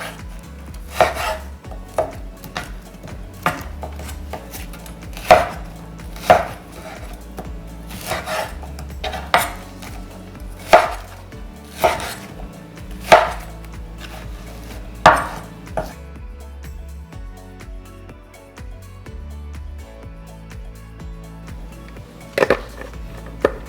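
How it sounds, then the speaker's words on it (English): A knife hacks through beef short ribs between the bones on a cutting board, giving about fifteen sharp, uneven chops with short pauses between them. "You gotta cut this in between the bones."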